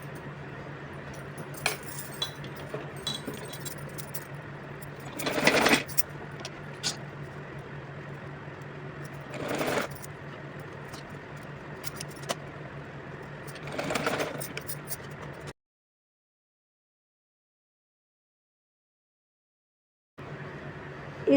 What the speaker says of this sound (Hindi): रखने के बाद इस पर पहले मैं सिलाई लगाऊंगी